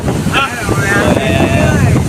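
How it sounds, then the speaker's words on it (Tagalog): Strong morning wind buffets an outdoor microphone with a continuous loud roar, while a person talks over it. "Hangin, oh."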